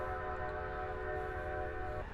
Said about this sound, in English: you can actually hear number 90's whistle in the distance as she pulls out of the station